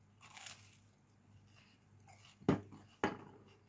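Cheese toast with butter is bitten into twice, each bite a sharp close crunch about half a second apart, amid quiet low-level chewing sounds and no speech.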